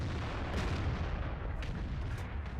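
Artillery gun firing a shot in the tank video game World of Tanks, a dense rumbling boom that fills the whole stretch with steady low-heavy noise and faint crackles, no voices.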